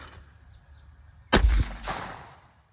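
A Retay Ace waterfowl shotgun fires one loud, sharp blast up close, followed by a rumbling echo that fades over about a second outdoors.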